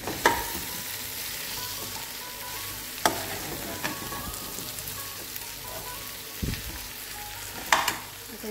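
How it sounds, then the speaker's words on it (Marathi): Raw mango curry (kairichi bhaji) being stirred in a pan, a soft continuous sizzle broken by a few sharp scrapes and clinks of the spoon against the pan, with no talking. "आता हे व्यवस्थित मिक्स करून घ्यायचे"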